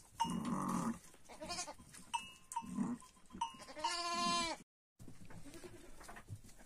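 A bell hung on a sheep's neck in a village flock during lambing season, clanking irregularly and close among loud bleating from sheep and goats, with a brief dropout near the end.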